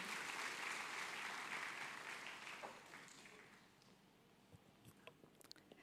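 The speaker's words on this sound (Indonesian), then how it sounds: "Yang percaya tepuk tangan buat kemuliaan nama Tuhan." Congregation applauding in a church worship service, a dense wash of many hands clapping that starts loud and gradually thins and fades, leaving a few scattered claps near the end.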